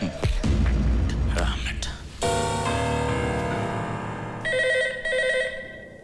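A telephone rings under film music and dramatic background sound, its electronic ring pulsing in short repeated bursts toward the end, moderately loud.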